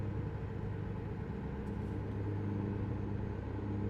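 A truck engine rumbles steadily while driving in the video game Starfield, a continuous low drone at even volume with no talk.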